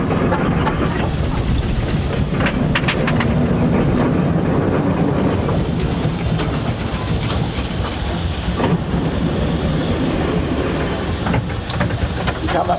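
Steam traction engine running at a country steam show, giving a loud, steady, close hiss and rumble that holds without a break, with faint clanks rising now and then.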